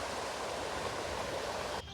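Water flows steadily beneath a bridge, a broad, even rushing hiss like a stream or small waterfall, close and continuous before cutting off abruptly near the end.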